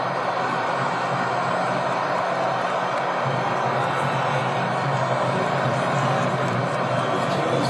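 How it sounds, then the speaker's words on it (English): A large crowd of USA fans at a National Mall watch party for a World Cup match, a steady, loud, far-off roar of cheering that swells slightly and holds without a break. "Listen to the crowd come to life here."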